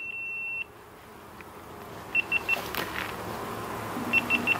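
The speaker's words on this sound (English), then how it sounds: "the GoPro battery just died" A GoPro 7 camera out by a beehive gives a short series of faint electronic beeps as its battery dies, two quick sets of three chirps over outdoor background noise.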